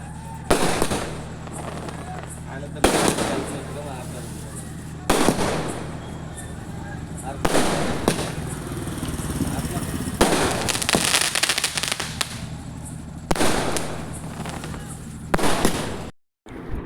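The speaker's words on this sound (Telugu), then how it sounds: "టపాసులు అయితే పేలుతున్నారు చూడండి." Firecrackers go off during a village Ganesh procession, loud sharp bangs repeating every couple of seconds over a constant crowd din and background music, with voices throughout.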